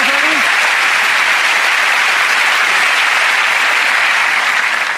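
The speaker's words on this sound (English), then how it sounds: "Thank you for that round of applause." Loud, dense audience applause at a televised magic show, a sustained roar of clapping from a large studio crowd with a brief voice at the very start.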